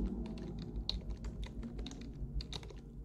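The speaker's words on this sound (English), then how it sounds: "or just start typing" Quick, quiet keystrokes on a computer keyboard tap out an uneven run of clicks over a low background hum, close to the microphone with no voices over them.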